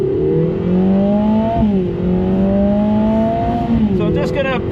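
A 360bhp Lotus Emira fitted with an AMG engine pulls away on a wet, greasy race track, its engine note climbing steadily and dropping at each gear change, loud and close with someone talking over it.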